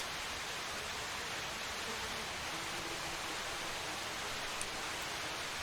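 Steady, even rain hiss in the zombie survival game Project Zomboid, a constant broadband wash with no distinct drops or thunder, heard alone.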